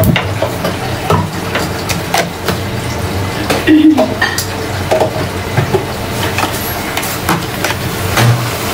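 Cumin powder is stirred into a cooking pot of spices over heat, with repeated scraping and clinking of a utensil against the pot amid a soft sizzle and a constant low background hum.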